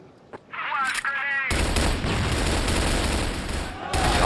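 Rapid video-game gunfire from Crossfire during an esports tournament quarterfinal, a dense, continuous burst of overlapping shots that swells loud and steady, with a single sharp report just before it and a commentator's voice under the fire.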